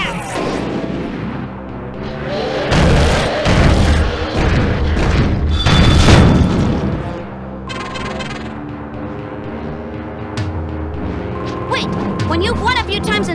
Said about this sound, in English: It's a super finishing attack!